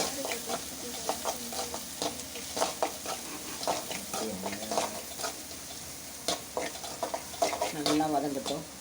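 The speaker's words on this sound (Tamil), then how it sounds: "நல்லா வதக்கிக்கலாம்." Steady sizzling and frying from sautéing spice powder and salt in a frying pan, with frequent scraping and stirring clicks, continuous and fairly close, with no talking.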